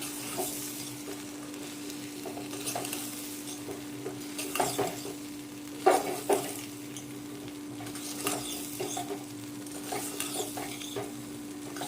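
Biryani pulao masala being stirred into a pan of soya chunks pulao, with repeated scraping stir strokes over a steady low cooking sizzle and a constant hum, close and moderately loud, no talking.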